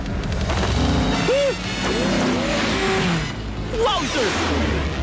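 Cartoon car racing along with tire squeals and skid sweeps over a continuous engine roar, swooshing pitch glides rising and falling loudly throughout, with some voice-like sounds mixed in.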